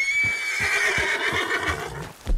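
A horse neighs in one long, loud, wavering whinny that fades out, with a few dull thuds underneath, in the video game Red Dead Redemption 2.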